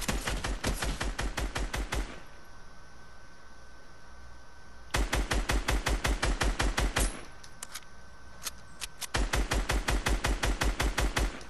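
Rapid bursts of automatic gunfire in an arena shooter video game, loud and close, with two long strings of evenly spaced shots separated by a quieter gap and a few stray single shots.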